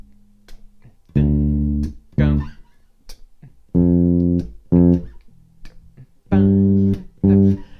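Deep bass guitar notes of the groove from a song played in short paired bursts, a simple repeating two-note groove with gaps and faint string noise between phrases.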